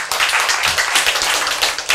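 Audience clapping at a sermon or lecture, a dense, steady patter of many hands held at an even level for about two seconds with no voices over it.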